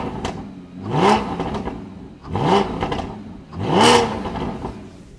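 A 2014 Porsche Cayman 981 GTS with the power kit revs its engine, not from cold, in three loud, close blips. Each rises sharply in pitch and then drops back to idle between them.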